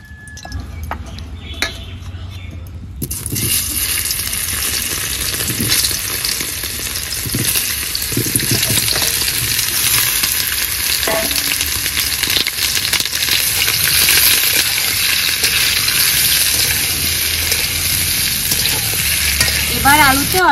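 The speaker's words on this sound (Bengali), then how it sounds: "করে রাখা আলুগুলো ভেজে নিতে হবে, তাই কড়াইয়ে তেল দিয়ে দিচ্ছি।" Small boiled new potatoes hit hot oil in a wok and set off a loud, sustained sizzle that stays steady throughout, with brief clinks of utensils and no voices.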